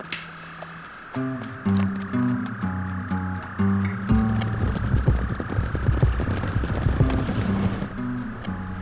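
Several horses approach with rhythmic clip-clop hoofbeats that grow louder and denser as riders on horseback close in and surround the listener, with no talking.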